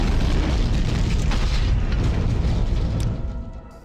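An explosion in Morrowind bursts out as a loud, sustained roaring boom that rumbles heavily for about three seconds before tapering off.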